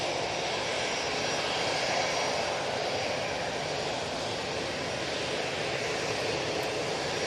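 Jet2 Airbus A321ceo airliner at Manchester Airport, its jet engines giving a steady, loud broadband roar that holds constant throughout without other sounds.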